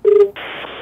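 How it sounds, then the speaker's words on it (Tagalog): A single steady dialing tone from a telephone being called, followed by a broad hiss like a line connecting, short and clear with no talk. "Tawagan nga itong telepono ng Paul Antonio Chua para makausap natin"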